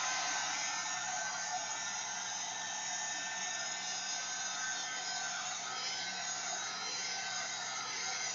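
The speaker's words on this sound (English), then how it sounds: "now let me just give this a quick heat set so we can move on to the other side" A heat tool blows steadily and loudly without a break, heat-setting acrylic inks on a mixed-media bag decorated with collage and napkins.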